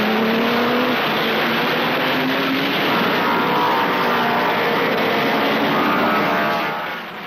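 German Grand Prix racing cars of 1934 roar past at close range, a loud sustained engine drone with rising and falling pitch that fades slightly at the end.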